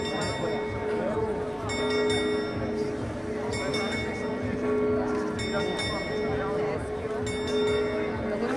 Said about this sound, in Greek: Χτυπάει το καμπανάκι εκεί ο σκελετός.